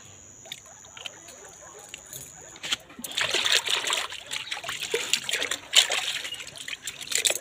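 Water splashes and trickles as pets are bathed with Dettol, starting faintly and then turning into a steadier, louder patter of wet splashing for the last few seconds.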